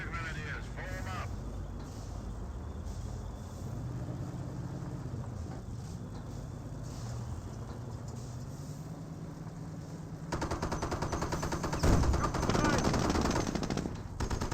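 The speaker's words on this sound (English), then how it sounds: "snipers being fired from all sides" Battle sounds from Company of Heroes, with gunfire and sniper shots over a continuous din and a louder burst of rapid fire near the end, while a commentator talks throughout.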